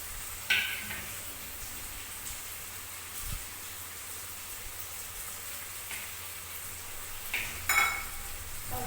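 Cumin and chopped onion frying for a tempering in a home-kitchen pan: a steady, fairly quiet sizzle with occasional utensil clinks and stirring scrapes, no talking.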